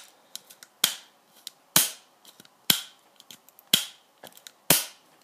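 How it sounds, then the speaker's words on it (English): A 1989 Kenner RoboCop toy's cap-firing feature snapping off caps, five sharp cracks at roughly one-second intervals, each preceded by faint plastic clicks of the mechanism, close and with no talking. "That's the cap firing feature."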